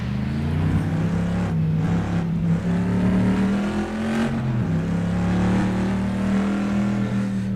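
Race car engine in a racing simulator game, heard from the bonnet camera: a loud, steady droning tone that rises and falls with shifts in throttle, continuous throughout with no talking.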